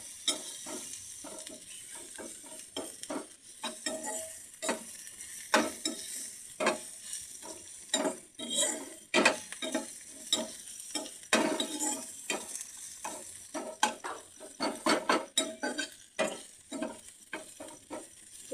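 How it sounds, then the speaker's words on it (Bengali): Garlic and ginger fry in a pan with a soft, continuous sizzle, broken by frequent scraping strokes of a spoon stirring, fairly close and quiet with no talk. "লাল লাল করে ভালো করে ভেজে নিতে হবে রসুনটা আর আদাটা ভালো করে ভাজা করে নিতে হবে"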